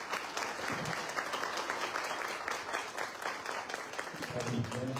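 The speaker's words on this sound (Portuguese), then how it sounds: "Então vamos acolhê-lo com uma salva de palmas." A church congregation at a festival honoring Saint Francis of Assisi claps steadily to welcome the presiding priest. The applause is moderately loud and sustained, and a voice begins speaking near the end.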